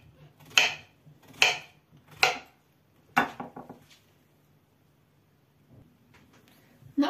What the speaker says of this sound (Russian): Кабачки берем молоденькие и нарезаем примерно 1 сантиметр шириной.